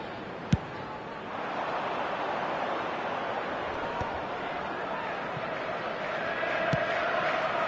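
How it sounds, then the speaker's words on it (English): Virtual stadium crowd in an eFootball match, a steady broad roar of cheering and noise holding throughout, swelling slightly toward the end, with a couple of sharp brief clicks. "Certainly gave this crowd something to really cheer about."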